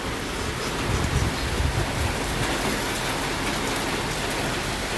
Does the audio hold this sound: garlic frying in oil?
no